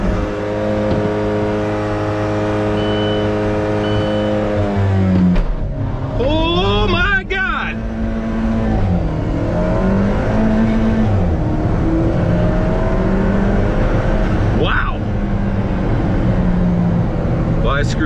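An Alfa Romeo 4C doing a launch-control start with manual shifting: a held high idle, then a loud surging acceleration through rising revs with sharp gear-change breaks, close from inside the cabin, with a person shouting and talking over it.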